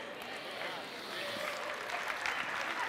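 Audience applause during a talk, a broad, steady wash of clapping from a crowd that holds an even level throughout, with faint voices mixed in underneath.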